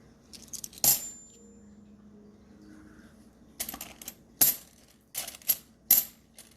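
Silver half-dollar coins drop and clink one after another onto a hard surface, several sharp metallic taps spaced irregularly over a quiet background, close and fairly soft.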